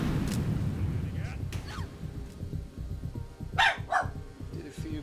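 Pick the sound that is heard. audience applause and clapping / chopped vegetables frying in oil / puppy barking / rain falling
puppy barking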